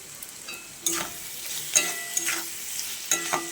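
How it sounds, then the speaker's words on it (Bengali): Chopped tomato frying with ground Kashmiri chilli, cumin, salt and turmeric in a pan: a soft sizzle broken by a few sharp spatula scrapes and taps, close up and without speech. "দিচ্ছি টমেটো কুচি।"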